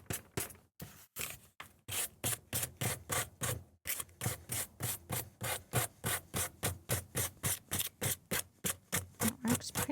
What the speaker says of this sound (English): finally got one of these fun little sanding tools